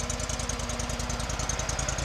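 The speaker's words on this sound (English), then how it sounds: "Kohler gas engine. To me, that's the preferred engine in this tractor." A Kohler gas engine idles on a 2010 Terramite T5C tractor, close and steady, with an even pulsing rhythm throughout and no talking.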